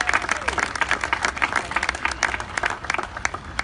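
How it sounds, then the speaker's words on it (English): An audience applauds at a Long Beach Motorsports Walk of Fame induction ceremony, giving close, dense and steady clapping with some crowd noise. "Let's give him a big round of applause."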